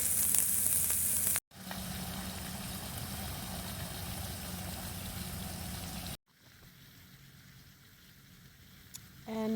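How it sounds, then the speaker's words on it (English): Potatoes, onions, peppers and garlic fry in a pan outdoors in a forest, a steady close sizzle broken by brief cuts, with a low engine-like hum beneath. "And a little fried potatoes and onions and peppers and garlic."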